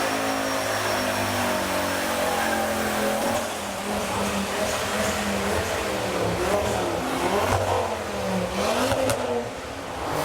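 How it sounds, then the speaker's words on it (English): A Ford Focus ST revs its engine at a busy car meet. The exhaust drone rises and falls continuously, and crowd noise and other cars rumble in the background. "And yet another Focus ST making some sounds."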